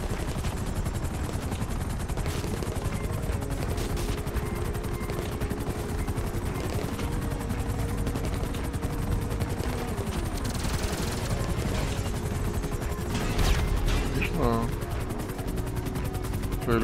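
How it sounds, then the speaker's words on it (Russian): Helicopter rotor chop in GTA Online drones steadily behind a dense, loud game mix with bursts of gunfire and explosions, and players talking over it. "О, тут вертолет."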